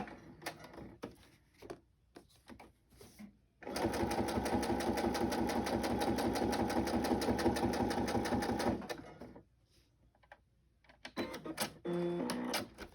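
A sewing machine stitches over fabric tags in a shabby chic craft project, running in one sustained rapid burst of about five seconds between quieter handling clicks, with a short second run near the end.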